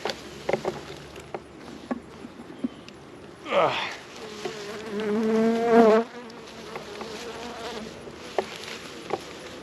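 Honey bees buzz around an open hive being smoked during a raw honey harvest on a farm, a close, droning buzz that swells midway and fades again over quieter scattered buzzing.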